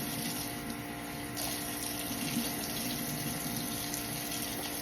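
Running tap water pours steadily into a kitchen sink while chili peppers are rinsed, a constant close hiss and splash that carries on without a break and with no voices over it.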